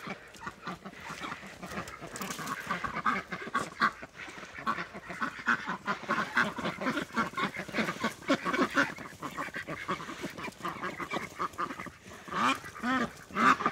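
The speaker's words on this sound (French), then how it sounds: "Là-haut qui se cache dans les ronces, il y a des canards de l'Allier" Allier ducks and young geese on a farm, hiding under brambles, give a busy stream of quacks and honks that overlap continuously at moderate loudness without pause.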